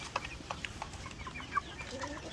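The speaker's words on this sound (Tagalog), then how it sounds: "Ito naman yung iba nating sisiw dito." Chicks in a coop give thin, scattered peeps and soft chirps, with a few sharper calls over a low rumbling background; no one speaks.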